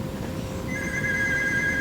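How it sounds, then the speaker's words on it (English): A telephone rings in a quiet room, a steady electronic tone entering partway through and continuing to the end over low background hum, with no talking. "I'm not going to answer that phone."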